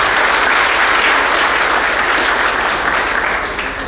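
Loud, sustained applause from a lecture audience honouring a teacher, a dense wash of clapping that holds steady for several seconds with no talk over it.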